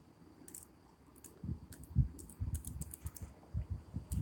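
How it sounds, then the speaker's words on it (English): Soft, irregular clicks and taps come from a phone number being keyed in on a keypad. They grow denser and louder partway through, over a faint background hum. "I was typing in my phone number"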